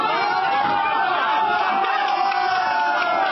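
A dense crowd shouts and clamours inside a courthouse as people force a prosecutor into the courtroom, a loud, continuous wall of overlapping voices with no pause.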